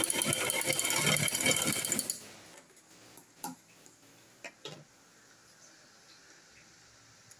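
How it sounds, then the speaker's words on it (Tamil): A sewing machine runs in a fast, even burst of ticking stitches while a blouse is sewn, then stops, leaving scattered soft clicks and handling taps. "அதே போல இதுலயுமே நம்ம இன்னொரு தையல் போட்டுக்கலாம்."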